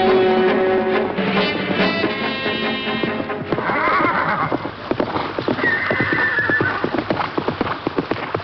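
Horses in a race with neighing and whinnying, then a rapid, continuous clatter of galloping hooves, loud and close throughout, with no talk over it.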